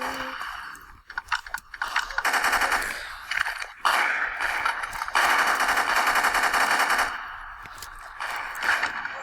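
Gunfire from a sniper rifle in the Roblox video game, heard as loud, dense bursts of shots that continue across most of the stretch with brief gaps between them.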